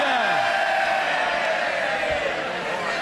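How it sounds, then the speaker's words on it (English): Labour Party MPs in the House of Commons cheer and shout as a crowd, a dense, steady roar of many voices throughout. "it's very good to see the Labour Party in full voice cheering on Jurassic Park."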